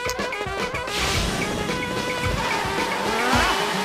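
Car drifting through a sandy stretch in Sonic Unleashed, with a sustained tire squeal over a steady engine roar lasting the whole moment, close and loud with no talk.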